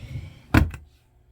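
A top drawer in a craft room opening with a single short wooden thunk and slide, close and fairly loud, followed by quiet.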